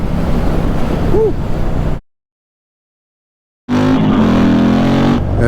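LiveWire electric motorcycle accelerating hard in sport mode, a loud rushing whine with wind roar, cut off by a gap of silence before resuming just as loud.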